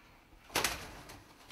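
An ice pigeon, a spangle clean-leg bird, makes a brief burst of sound close by, a single sharp flurry that fades into quiet room noise.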